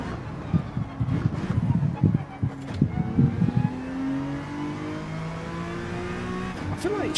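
Race car downshifting into a corner in Gran Turismo 7, engine revs blipping in short choppy bursts under a talking voice, then settling into a smooth rising drone as the car pulls out of the turn.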